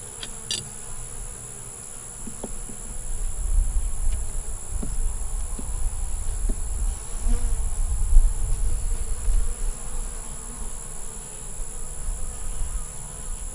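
Steady dense buzzing of many bees around an open beehive during a hive inspection, close and continuous, with a few faint clicks and knocks underneath.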